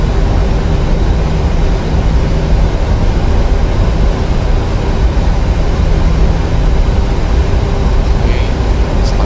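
Jet engines of a PMDG 737-800 in a Prepar3D flight simulator drone as a loud, steady, broadband roar on the takeoff roll, with no voices over it.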